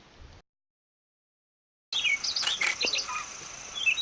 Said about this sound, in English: This grey-throated babbler bird caught our attention and it was singing beautifully.